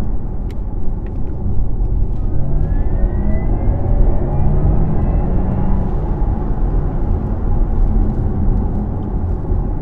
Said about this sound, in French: Je vais refaire une accélération.